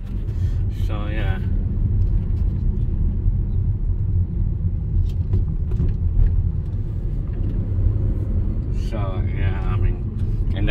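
A Chevrolet Camaro RS V6 on a test drive gives a steady, loud low rumble of engine and road noise from inside the cabin, with a couple of brief voice sounds near the start and end.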